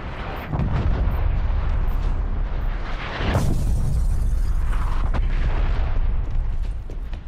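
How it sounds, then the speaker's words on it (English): Incoming artillery in a video game, with heavy rumbling explosions and a big booming blast midway, followed by a long, loud roar and scattered pops. "Artillery inbound."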